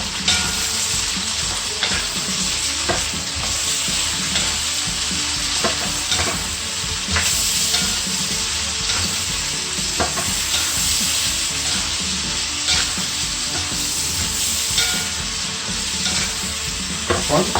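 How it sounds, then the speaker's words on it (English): Finely chopped ginger and garlic with a pinch of salt stir-fried in a pan, a loud continuous sizzle broken by repeated scraping stirs of the utensil, with no one talking. "I'm going to stir fry that."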